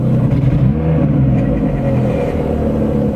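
A Lada Priora 16-valve luxury car engine idles steadily on LPG, a continuous close low rumble with a mid-frequency hum and no voices.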